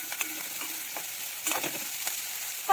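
Onions fry in a pan for chapati poha, giving a steady close sizzle with a few stirring scrapes and small pops and no voices.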